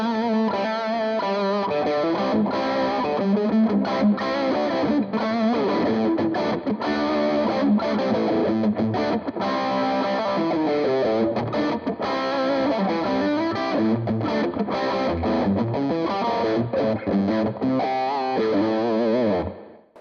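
A heavily distorted electric guitar through an Orange Tiny Terror 15-watt 1x12 combo amp plays chords and riffs continuously with a washy, echoing reverb tail, loud and alone until it cuts off at the end.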